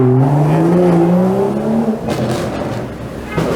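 A BMW car accelerates along a city street, its engine note climbing in pitch for about two seconds before fading into broadband road and traffic noise.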